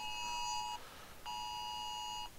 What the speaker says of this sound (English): My phone is going off because there's a public safety alert.